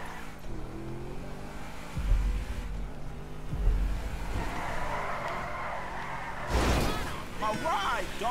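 A video game car engine in GTA hums and revs with occasional tire squeals and thumps, while voices chatter over the driving sounds.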